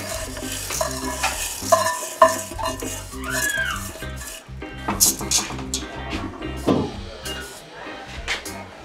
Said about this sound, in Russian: Я все это перемешиваю